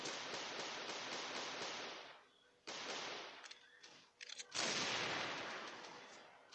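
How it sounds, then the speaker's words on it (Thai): Rapid automatic gunfire in the video game Crossfire: Legends: long, loud, dense bursts broken by a short pause and a few scattered shots before another sustained volley, with no speech. "ยิงรัวมากครับเวลายิงอัตโนมัติ"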